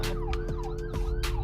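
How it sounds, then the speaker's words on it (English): An ambulance siren passing by a car, its wailing tone sweeping up and down in repeated cycles over steady engine and road hum, loud and close for the whole stretch with no talking. "there's an ambulance passing"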